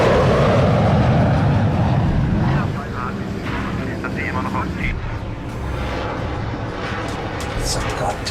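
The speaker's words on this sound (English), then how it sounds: "It's a goddamn Nazi plane." A Nazi jet plane flies past in a movie scene, a loud roaring rush that swells and then settles into a steady, rumbling drone with some scattered clatter.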